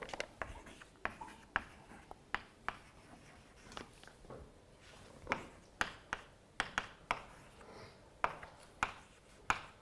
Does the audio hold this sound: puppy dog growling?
no